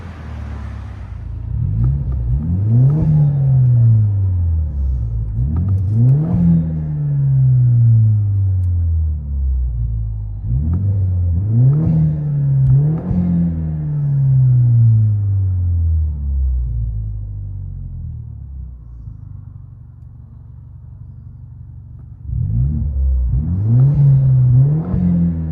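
From inside the cabin, a 2018 BMW 530i 2.0L turbo with muffler delete revs in a series of loud, booming rises and drops, several pulls spaced across the clip with no talking.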